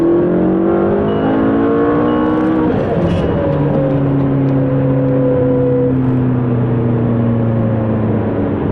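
A car engine accelerating hard during a street race, loud and close, with rising engine notes that climb, briefly drop as it shifts, then pull up again in a continuous sustained roar.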